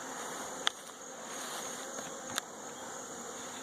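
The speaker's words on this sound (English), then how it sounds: "There's an okay amount of bees in here." Honey bees in hive boxes of a combined mating nuc, a faint steady buzzing hum close by, with a couple of brief soft clicks and no talk.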